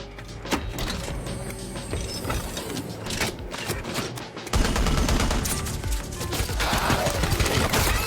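Gunfire and explosions from a monster-fighting movie battle, heard as a dense, loud barrage of rattling bursts and crackling impacts that continues for eight seconds and grows heavier partway through, with no talking.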